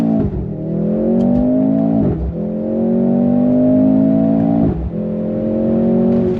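A 2023 Mercedes-AMG C43 sedan with an automatic transmission accelerates hard on throttle. The engine note climbs loud and close, broken by two quick gear shifts where the pitch drops before rising again.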